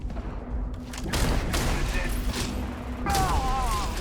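Weapon fire in Starfield within Misthaze Cavern, loud repeated shots and booming impacts in quick succession, with a voice talking through part of it.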